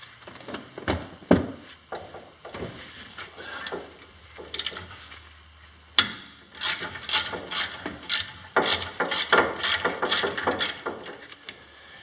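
A ratchet works a 17 millimeter brake caliper bolt loose on the front brakes of a 2010 Kia Soul. Bursts of rapid clicking come up close, a few slower ones at first and then a long, fast run of ratcheting, with no voices.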